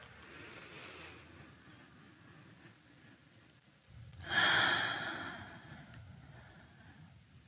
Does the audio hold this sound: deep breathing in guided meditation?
yes